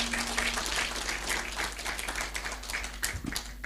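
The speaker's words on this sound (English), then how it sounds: "Let's clap for the graduates who are here." Graduation ceremony audience claps for the graduates, a fairly quiet, even spatter of many hands lasting a few seconds at some distance.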